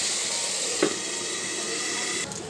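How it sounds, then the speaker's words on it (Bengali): Soaked lentil dumplings (dal bori) frying in a pan of oil, giving a steady close-up sizzle and hiss that runs almost unbroken, with one small pop near the start and a slight drop in the sizzle near the end. "ডালে বড়িটাকে একটু জলে ধুয়ে ভেজে নিচ্ছি"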